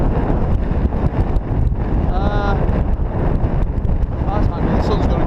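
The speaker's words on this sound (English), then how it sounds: "It's a bit breezy up here, but it's always breezy up here." Strong wind buffets a hilltop summit at about 2000 feet in winter, a loud continuous roar across the microphone with gusting swells and a few faint higher tones, no talk heard.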